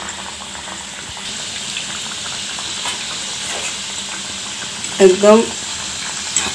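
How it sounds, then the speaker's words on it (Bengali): Cauliflower samosas deep-frying in hot oil over a medium-to-low flame give off a steady, close sizzling hiss throughout, with a short spoken word near the end. "এবার আমি মিডিয়াম টু লো ফ্লেমে ভাজবো।"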